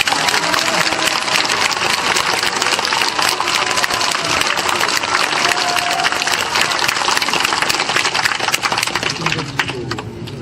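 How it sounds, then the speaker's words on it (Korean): An audience bursts into dense, sustained applause after a welcome speech at an Andong event, filling the hall loudly and continuously for about ten seconds. "박수 한번 보내주시죠"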